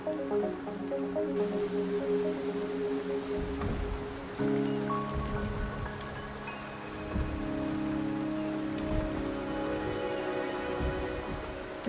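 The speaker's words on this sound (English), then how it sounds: "The rain is subsiding, and the sky will soon clear." Steady rain falls in the video game Wuthering Waves, a soft continuous patter of drops over a sustained musical backdrop, with no voices.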